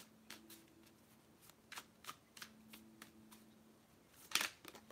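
A deck of oracle cards is shuffled by hand in a quiet room: soft, rhythmic riffling clicks repeat steadily, ending in a sharper, louder flutter of cards near the end.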